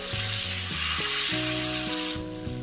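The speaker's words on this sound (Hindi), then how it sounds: "चलिए जी, अब इस लेमन जूस में हम इसे कुछ देर तक पकाएंगे।" Green chilies cook in lemon juice in a pan with a steady, close, bright sizzle throughout, joined by a low tonal hum that shifts pitch in short steps.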